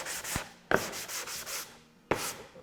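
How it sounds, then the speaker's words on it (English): A 150 grit sanding block rubs back and forth over wood in a few quick, close strokes with a dry, rasping texture and sharp onsets between passes, with no voices. "that's a 150 grit sanding block, and that flattens them out"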